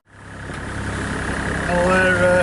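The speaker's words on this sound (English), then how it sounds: "we had to have the motor running along with the sails to push us along" A sailing yacht's motor runs steadily while under sail on a crossing from the Isle of Man in light wind, a continuous low engine drone that grows slightly louder toward the end, with faint tonal whines layered on top.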